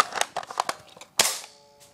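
Airsoft gun fired in a series of sharp, close snapping pops at an uneven rhythm, followed by one louder crack with a brief ringing tail, no talking over it.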